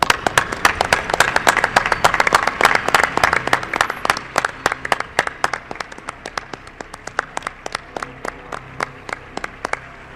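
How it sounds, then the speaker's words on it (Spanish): A live audience at a mystery radio show broadcast from Mérida applauds, with dense, rhythmic clapping loud at first that thins and fades into sparser, scattered claps over about ten seconds. "Yo también quiero ese aplauso, ¿no?, para otra pata importante de la nave del misterio"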